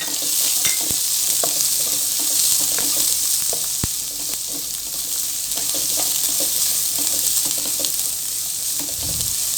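Finely and evenly chopped onions sautéing in a pan for Tamil-style egg podimas, a steady close sizzle and frying hiss with occasional stirring scrapes throughout, no talking.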